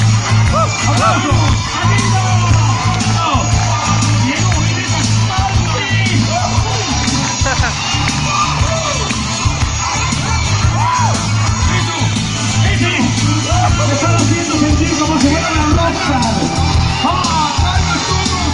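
Audience at a comedy show at the Palacio de Cristal in Guayaquil, yelling, whooping and cheering loudly in a continuous dense roar, with shouted voices mixed into the crowd noise.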